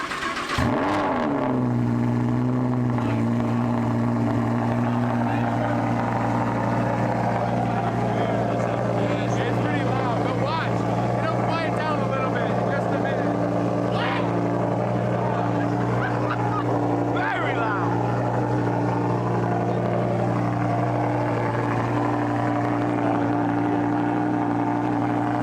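A Lamborghini Huracan LP610-4 starts up with a sharp loud bark, then settles into a steady deep idle from the exhaust, heard close behind the car while people talk over it.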